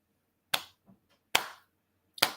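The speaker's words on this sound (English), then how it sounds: "Slow applause." Three single, sharp hand claps, slowly spaced about eight-tenths of a second apart, clear and close in a quiet room.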